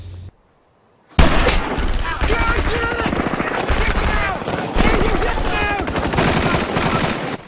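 Rapid automatic gunfire rattles through a film shootout scene, in dense loud bursts after a short silence, and keeps going almost without a break.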